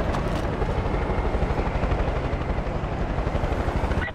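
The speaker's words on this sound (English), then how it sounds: "Patrol say there's more choppers headed your way." Helicopter in the video game Far Cry 5, a loud, steady rotor thrum with rapid chopping pulses filling the whole moment, with no talk over it.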